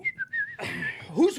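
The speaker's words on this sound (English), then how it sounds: "Who's whistling?" Someone whistling a short series of clear, bright, wavering notes close by, followed by a brief burst of voices and a rising whistled slide.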